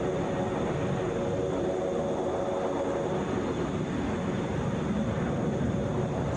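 A Delta Boeing 737 jet at Atlanta International Airport, bound for Indianapolis, gives a constant, moderately faint engine rumble and hiss throughout, with no voices.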